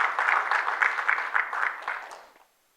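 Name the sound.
church congregation clapping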